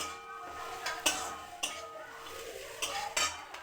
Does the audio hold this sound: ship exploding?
no